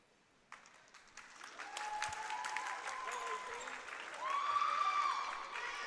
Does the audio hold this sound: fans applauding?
yes